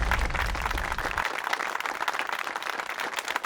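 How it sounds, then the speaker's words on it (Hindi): Audience applause for a woman named Kittu at a Women's Day family event, loud dense clapping that stays steady for a few seconds and then thins out. "किट्टू के लिए जोरदार तालियां हो जाए।"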